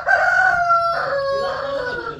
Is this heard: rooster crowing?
yes